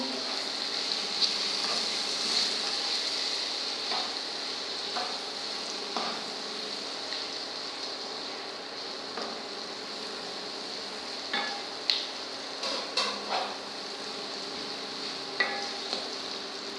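Vegetable upma with cinnamon powder and salt being mixed in a pan: a steady soft sizzle runs throughout, with scattered scraping stir strokes and light clicks, louder toward the end, and no talking.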